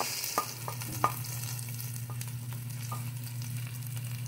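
Onions and chili sizzle steadily in a hot pan, a continuous close frying hiss broken by a few sharp stirring clicks, with no voices, while bangus milkfish ginataan is being cooked.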